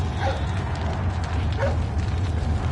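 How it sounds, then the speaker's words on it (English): A dog barks in the video game Resident Evil 4, with a couple of short, mid-distance barks over a steady, dense game ambience. "Nah, it's a dog, yeah, because it worked."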